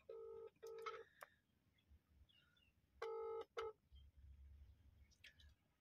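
Telephone dialing on speakerphone during a call to a restaurant: two bursts of loud, close electronic keypad tones, the first lasting about a second and the second half a second, with a quiet low hum in between.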